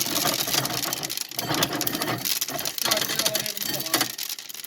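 A farm corn sheller with a big spring-loaded mechanism shelling ears of corn in the fall, a loud rapid mechanical rattle and clatter running throughout, pulsing in bursts, with speech mixed in.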